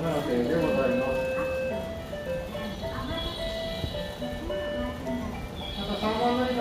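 A station approach melody playing Mary Had a Little Lamb as a steady tonal chime at Nishi-Akashi Station as a freight train passes, loud and continuous over a rumbling background.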